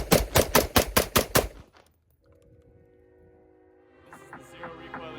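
A zero recoil rifle fires a rapid string of about seven loud, sharp shots, then falls silent before a faint mechanical ring and rattling follow.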